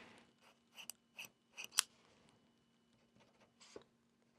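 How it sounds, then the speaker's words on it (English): A pen scratches short lines onto paper, several quick, quiet strokes in an uneven cluster followed by a couple of fainter ones, with no voices. "I'm going to draw my lines."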